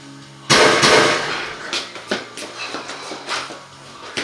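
A burst of sharp, loud gunshots on an indoor shooting range during an active shooter drill starts abruptly, followed by a scattered series of quicker, fainter pops at irregular intervals.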